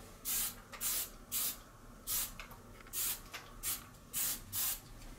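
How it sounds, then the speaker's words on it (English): Aerosol hairspray can laying down light even coats for a model weathering technique: seven short hissing bursts of spray in a steady rhythm, each about half a second, close and clear with quiet pauses between. "I find using the aerosol a little bit easier than using an airbrush"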